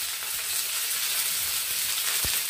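Mustard seeds, curry leaves and green chillies sizzle in hot oil, a steady dense hiss throughout with a soft clink near the end.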